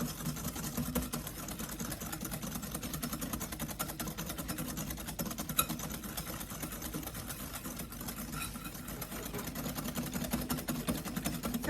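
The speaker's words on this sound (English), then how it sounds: "into the egg yolks, I put 3 tablespoons of sugar, and I'm going to whisk this together" Egg yolks and sugar whisked together in a bowl for crème brûlée, a steady, fast, even scraping rhythm of the whisk that continues without a break from start to finish at close range and fairly low level, with no talking.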